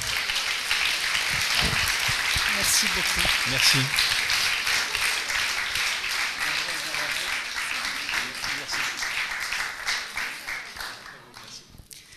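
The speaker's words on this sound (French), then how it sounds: "j'aurais bien aimé que la salle puisse les applaudir parce que c'est eux qui ont fait le job." An audience in a hall applauds the organizing team at a round-table event. The steady, full clapping lasts several seconds while someone speaks briefly over it, then tapers off.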